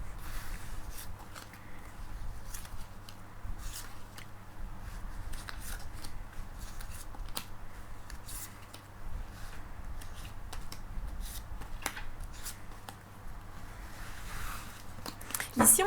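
Tarot cards shuffled by hand for a card draw, a steady papery riffling and sliding with small flicks, close and fairly quiet over a low hum, continuing for the whole stretch without talk.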